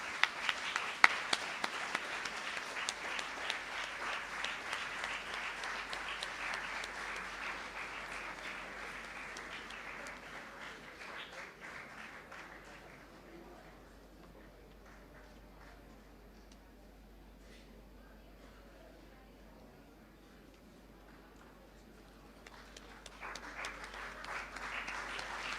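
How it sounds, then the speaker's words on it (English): Audience applause fills a hall at a college Gita Jayanti prize ceremony as a winner walks on stage, steady and fairly loud, fading to a low murmur midway before clapping swells again near the end. "May I hear a thunder of claps to welcome on stage Suri Dikshita"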